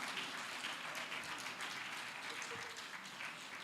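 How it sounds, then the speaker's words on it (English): Conference audience in a hall at a Lagos international safety conference applauds together, a steady dense wash of many hands clapping at moderate level throughout, with no single claps standing out. "A round of applause, a round of applause"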